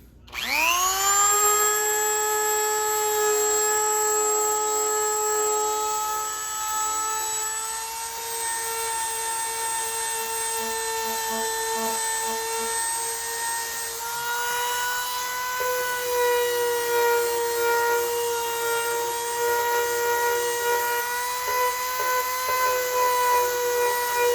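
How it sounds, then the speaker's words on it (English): A Dremel rotary tool spins up and holds a steady, loud high-pitched whine while sanding leather edges, the pitch dipping slightly as it presses into the material. "So I'm just going to take the Dremel tool, go over it nice and evenly, and get that all smoothed out."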